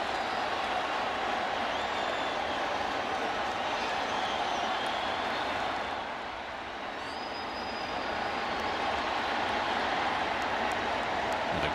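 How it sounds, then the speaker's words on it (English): A baseball stadium crowd at loanDepot Park in Miami, during a Giants at Marlins game, roars as the wave goes around: a continuous loud wash of cheering that dips briefly midway, then swells again. "The crowd has erupted here at Lone Depot Park. They finally got that wave going."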